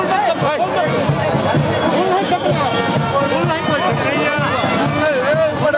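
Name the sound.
crowd babble at kabaddi tournament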